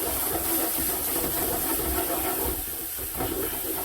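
Garlic and ginger paste frying in a pan for a chicken tikka naga bhuna, giving off a steady, broad hissing sizzle with a faint low rumble underneath, continuous and fairly close.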